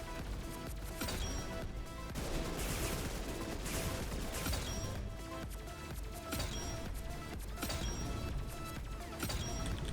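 A hex spitter shotgun with a drum magazine fires in the video game Weird Gun Game, loud punchy blasts coming in a rapid, repeated barrage over a busy game soundtrack.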